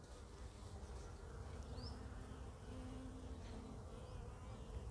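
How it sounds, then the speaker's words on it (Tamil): Honey bees buzz in a steady, dense drone while fanning their wings around a box holding a queen bee, a soft continuous hum with no voices. "ராணி வந்துட்டு இந்த ரக்கை விசிறது பார்த்தீங்களா?"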